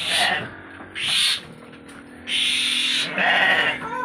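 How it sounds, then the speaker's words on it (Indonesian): A goat in its pen bleats loudly and close, four drawn-out, wavering calls spaced across a few seconds over a low steady background hum. "ini kambingnya luar biasa"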